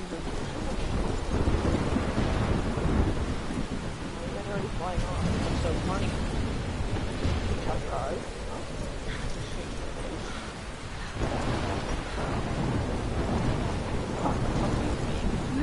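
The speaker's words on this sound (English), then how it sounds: "I'm trapped in a storm." A video game thunderstorm rolls on with steady heavy rain and rumbling thunder, a dense continuous wash with deep surges, while a person talks over it now and then.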